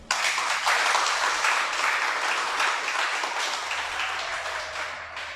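Congregation applauding during a Sabbath church sermon, sustained dense clapping that fills the room at steady loudness and slowly thins toward the end, with no speech over it.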